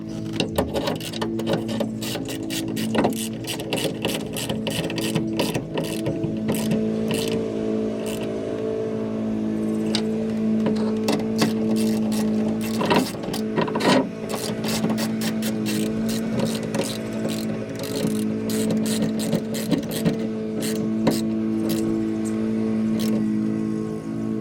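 A power tool driving bolts while installing bed rails on a 2020 Jeep Gladiator, a sustained motor whir that rises and falls over many seconds, close and loud, with short ratcheting bursts and no voices.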